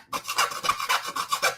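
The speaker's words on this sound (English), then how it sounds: "This is where these little tiny sanders come in handy" A small hand sander works over a little crafting piece in quick, rhythmic rasping strokes, close and clear with no talk, each pass a short scratchy burst.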